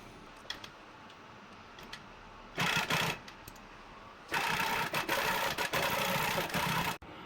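A Pro-Stitcher computer-guided longarm quilting machine stitches an edge-to-edge quilt pattern with a loud, fast mechanical whir. A short half-second burst is followed by a longer steady run of about three seconds that cuts off abruptly.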